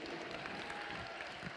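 Brief burst of crowd applause at a robotics competition awards moment, quiet and diffuse, a continuous wash of clapping lasting under two seconds.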